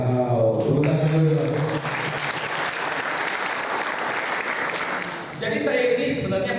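Applause from an audience at a youth church seminar, a dense, steady burst of clapping in the middle with a voice speaking briefly before and after it.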